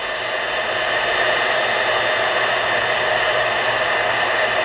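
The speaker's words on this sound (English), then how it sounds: "let's bring the embossing tool here" An embossing heat tool blows hot air in a steady, loud, close whoosh that holds without a break, like a small hair dryer running continuously.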